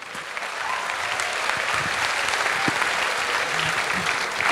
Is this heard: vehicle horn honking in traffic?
no